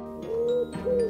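A baby owl calls in a nighttime tree, two soft, hollow hooting notes, close and clear, with a short gap between them.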